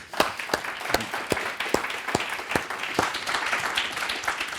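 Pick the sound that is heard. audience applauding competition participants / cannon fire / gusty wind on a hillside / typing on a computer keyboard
audience applauding competition participants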